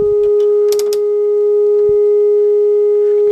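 A steady, loud pure sine-wave tone through a small two-transistor 5-volt amplifier holds throughout, slightly buzzy, with a few faint clicks and knocks near the start.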